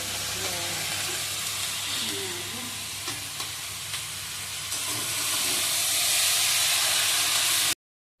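Green chillies sizzle in hot oil for a village-style fish curry, a steady, close frying hiss with stirring clinks. Faint voices sit underneath, and the sound cuts off abruptly just before the end.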